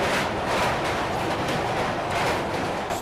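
Train at Sealdah railway station in Kolkata, a loud continuous broadband rumble of rolling stock with steady, dense noise throughout and no distinct horn or voices.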